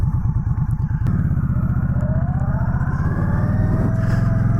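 A 2020 Indian Scout Bobber Sixty motorcycle is ridden close up, its engine giving a loud, steady, throbbing rumble that rises in pitch as it accelerates, with no talking.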